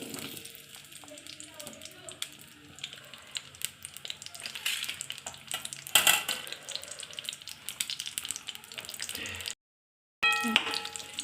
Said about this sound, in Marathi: आपल्याला कांदा लालसर होईपर्यंत भाजून घ्यायचा आहे।